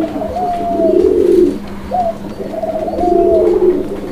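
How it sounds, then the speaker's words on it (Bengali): A pair of red Madrasi Golla pigeons coos loudly and close by in repeated rolling phrases, two long bursts separated by a brief pause. "পাচ্ছেন একদম টকটকে লাল রঙের একজোড়া মাদ্রাজি গোল্লা কবুতর।"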